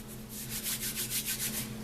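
Hands rubbing shortening into flour, baking powder and salt for tea biscuits give a steady, close, dry rubbing and scuffing in quick repeated strokes, about eight pulses, over a faint low hum.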